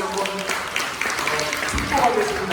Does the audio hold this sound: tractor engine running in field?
no